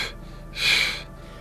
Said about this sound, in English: Let's do 3 quick exhales first,